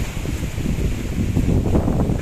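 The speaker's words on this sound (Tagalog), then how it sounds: "grabe grabe lakas na hangin" Strong southwest monsoon wind gusting outdoors, a steady loud low rumble of wind buffeting the microphone that continues throughout with no talking.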